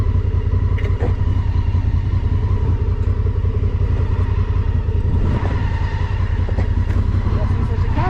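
A Honda Africa Twin motorcycle on a two-up trip through Romania rumbles steadily and close for the whole stretch, a constant low engine drone with occasional clatter, while people talk over it.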